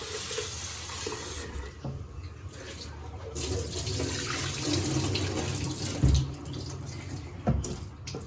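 Cold tap water runs steadily into a sink while a whole chicken is washed under it, a continuous close splashing flow with small shifts as the meat is handled.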